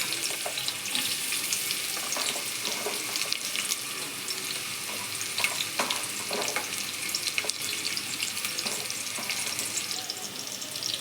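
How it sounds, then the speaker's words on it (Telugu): Sliced onions dropped into lightly heated oil in a kadai for a chicken dish, a steady close hiss of frying with occasional crackles and stirring scrapes, no talking. "ఒక కళాయి తీసుకొని నూనె వేసుకొని లైట్గా నూనె వేడెక్కాక ఫస్ట్ ఉల్లిపాయలు వేసుకోవాలి"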